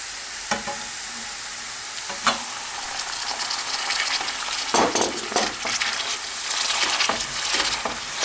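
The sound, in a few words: minced meat frying with onion in olive oil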